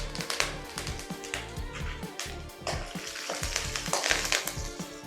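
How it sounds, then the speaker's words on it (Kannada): Guntur dried red chillies and curry leaves crackle and sizzle in hot tempering oil, close and busy, broken by quick taps and stirring knocks against the pan. "ಈಗ 2 ಗುಂಟೂರು ಮೆಣಸಿನ್ಕಾಯಿನ ಒಗ್ಗರಣೆಗೆ ಹಾಕೊಳ್ತಾ ಇದ್ದೀನಿ. ಜೊತೆಗೆ ಒಂದ್ ಸ್ವಲ್ಪ ಕರ್ಬೇವಿನ ಸೊಪ್ಪು ಕೂಡ ಹಾಕೊಳ್ತಾ ಇದ್ದೀನಿ."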